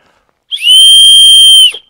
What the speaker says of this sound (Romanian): De-aia e interesant și important să facem zgomot atunci când mergem cu fluier.